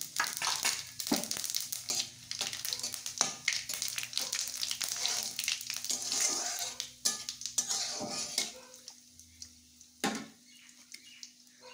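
Whole spices crackle in hot oil: cumin seeds, dried red chillies, cracked cardamom, cinnamon and a clove, for a Baghair fish curry. Sizzling throughout, with metal utensils clinking and scraping against the pan.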